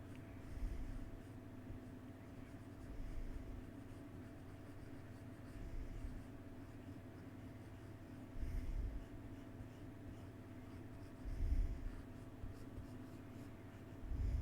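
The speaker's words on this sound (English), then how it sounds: "I'm just going to keep drawing like this," A pencil scratches across paper as a forearm drawing is sketched, giving soft continuous strokes with a few louder scraping passes against faint background hiss.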